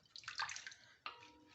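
Sliced potatoes being made into homemade chips drop into a bowl of ice-cold water, making faint splashes and sloshing in two short bursts with no talking.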